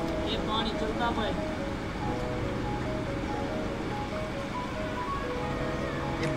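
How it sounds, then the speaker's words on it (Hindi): An electric motor driving the brine tank in an ice factory runs with a steady hum and whine, mixed with rushing water and a background voice talking. "ये ब्रेन वाली मोटर चलती पई है"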